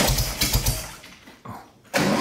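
A Volkswagen Arizonan trike engine in an airplane hangar revs in short, loud bursts: a rough surge that sags into a quieter low rumble, then snaps back up to full throttle near the end.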